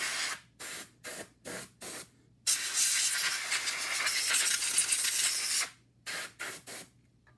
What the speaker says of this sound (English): Time to remove the dust bunnies using a compressed air can.